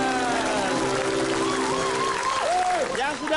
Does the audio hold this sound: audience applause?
yes